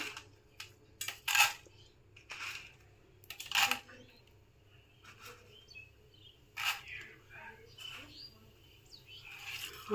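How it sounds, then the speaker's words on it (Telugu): Tempering seeds, mustard, cumin, chana dal and urad dal, go into a spoon of hot oil in a pan, giving scattered sharp pops and metallic clinks separated by quiet gaps, with a voice speaking at times. "ఇందులో పోపు గింజలు వేసుకుందాం."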